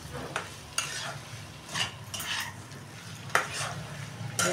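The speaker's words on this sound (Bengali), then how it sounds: "এটা আমি একটু ভালো করে নেড়ে নেবো।" A spoon stirs taro, potato and fried prawn curry with garam masala in a frying pan, giving soft, irregular scrapes and clinks over a quiet sizzle, close and fairly faint, with no voices.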